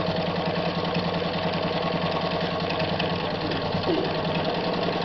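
A Japanese-made Riccar center-needle low-shank sewing machine runs steadily through denim, its dense mechanical whir and rapid stitching rhythm continuous and close throughout.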